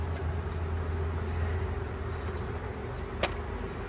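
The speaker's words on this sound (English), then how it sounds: "we got bees on the edge here" Honey bees on the edge of a hive frame during a walk-away split buzz in a dense, continuous drone, close and steady throughout, with a brief sharp click near the end.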